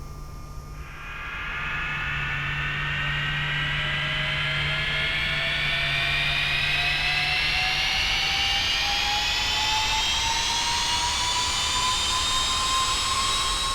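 A jet engine starts on a Carenado Citation II (S550) in the X-Plane 11 flight simulator, a rising turbine whine that climbs steadily in pitch over a constant roaring rush and keeps building loudly to the end.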